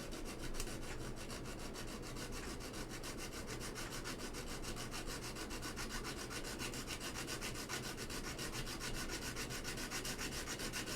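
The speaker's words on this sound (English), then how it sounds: "So we're just gonna filing everything down." Keycap area around a stepped Caps Lock being filed down during an Alps SKCL Green keyboard build, a steady close rasping rub that runs continuously and evenly with no pauses or talk.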